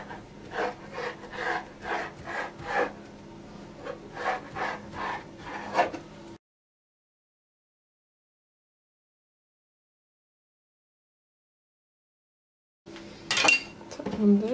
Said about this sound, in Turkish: Şöyle 3 parmak hemen hemen olacak şekilde keseceğim